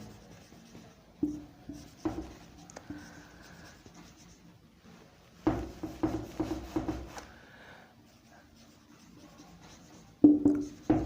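Marker or chalk writing on a board during an English grammar lesson, heard as scattered bursts of soft rubbing and squeaky strokes between quiet pauses, close and alone with no talk.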